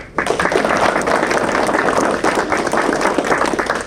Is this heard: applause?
yes